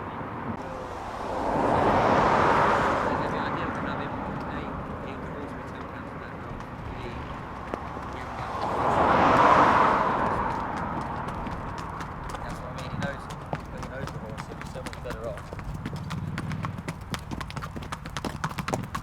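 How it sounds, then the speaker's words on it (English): Racehorses' hooves clip-clop steadily on the way to the gallops, a continuous rhythmic clatter with two louder passes as horses come close, under background talk. "The horses are on their way to the Bahathri gallops, which allow for near race speeds, around 40 miles an hour."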